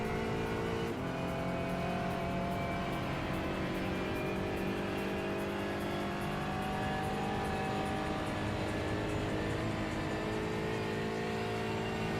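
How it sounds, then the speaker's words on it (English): A damaged V8 race car in iRacing at the Nurburgring, running on only some of its cylinders, drones loud and close with a steady, rough engine tone and no talk. "Car's still running, albeit probably on like 4 cylinders out of the 8 it started with."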